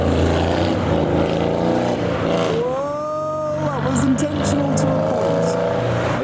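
Cars lapping the rain-wet Nürburgring Nordschleife, among them a BMW with an all-wheel-drive Toyota GR Yaris behind, their engines droning and sweeping up and down in pitch as they pass close by.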